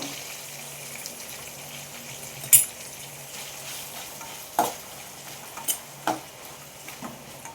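Tomato added to a frying pan of peas for a ridge gourd and pea gravy and stirred, with a soft continuous sizzle broken by a few sharp spoon clinks and scrapes; no speech.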